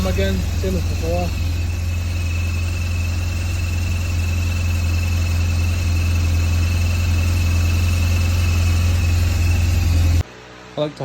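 A BMW R1200GS K25 motorcycle engine idles steadily and loudly while warming up, with a deep, even rumble for several seconds, then cuts off abruptly near the end.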